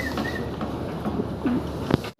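A pair of Lahori pigeons coos in short low bursts close by, over a steady background murmur, ending abruptly.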